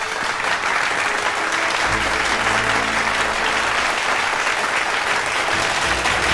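Sustained, dense applause fills a formal award ceremony as the founder of Jiming Capital is called up to receive a top-ten new venture capital award; steady, loud clapping continues unbroken throughout.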